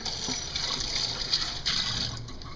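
Water emptied and rinsed from a foot basin in a foot-care setting, a continuous close pouring and splashing rush with a bright hiss that thins near the end.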